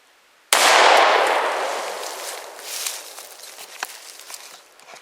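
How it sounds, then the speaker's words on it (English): A single sharp, loud blast from a Smith & Wesson Governor revolver firing Federal triple-aught buckshot at a shaving cream can, with a long decaying echo and then faint rustling. "Shaving Cream versus Federal's triple-aught Buckshot."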